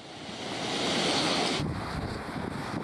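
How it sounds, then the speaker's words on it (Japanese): Muddy flood torrent of the Magome River in Hamamatsu during torrential rain, a loud continuous roaring rush with wind buffeting the microphone and no voices. "濁流となっています。"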